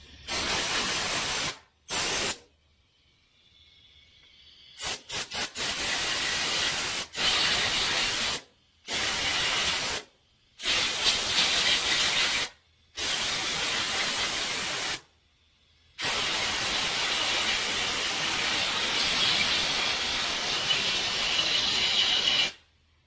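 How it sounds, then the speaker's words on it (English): Loud close bursts of compressed air hiss in repeated blasts of varying length, drying parts on a Dodge Ram engine during an oil pressure repair, separated by short silences, with one long final blast. "I'll take a little compressed air and just dry things up."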